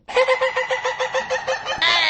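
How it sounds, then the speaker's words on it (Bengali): A run of rapid, nasal squawks and clucks from poultry, loud and close, ending in a sustained louder squawk with no voices. "অমনি মুরগিগুলো শব্দ করে ওঠে"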